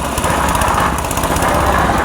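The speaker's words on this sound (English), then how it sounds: "Concrete mixer under the control of Elson" Concrete mixer running at a house building site, a loud close rumbling drone with fast rhythmic churning pulses, continuous and alone without any talking.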